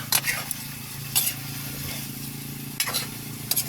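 River shrimps frying in oil with spices, a steady sizzle broken by a few sharp utensil scrapes and clinks against the pan, close up.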